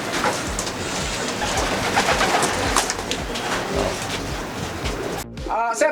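Racing pigeons coo repeatedly at close range in a loft, soft rolling calls layered over each other, with a voice speaking briefly at the end.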